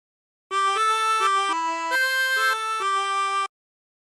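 A 24-hole tremolo harmonica plays the opening phrase of a song, about nine wavering notes in a steady rhythm over three seconds, close and clear.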